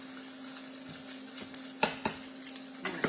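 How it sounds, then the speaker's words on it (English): Onions hit a big hot skillet with pork fat, giving a soft steady sizzle under a low hum, with a few sharp scrapes and clinks of a utensil stirring near the end. "we're just going to add the onions in."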